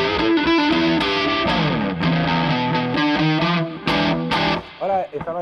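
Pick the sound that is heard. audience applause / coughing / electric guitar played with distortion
electric guitar played with distortion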